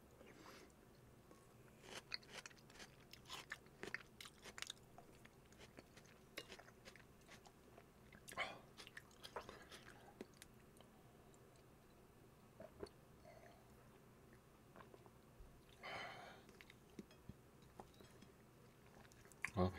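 Close, quiet chewing of rose-sauce soft tofu stew and cheese pizza at home, with soft bites and the odd crunch and smack spread across the meal.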